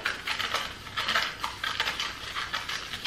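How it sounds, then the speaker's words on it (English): Sand and water stirred together in a cup, giving a close, gritty scraping and swishing that comes in uneven strokes for about three seconds, with no voices. "Let's stir it."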